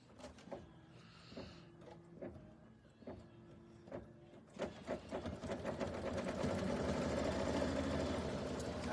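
A home sewing machine runs a satin stitch around the edge of a flower circle coaster, threaded yellow top and bobbin; short separate bursts early give way to a steady, continuous rapid hum of needle strokes, fairly close.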